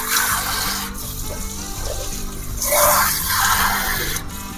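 Water poured into a cooking pot of moong dal with drumstick leaves, brinjal and chopped tomato, a steady splashing pour that swells midway and runs continuously, close and fairly loud.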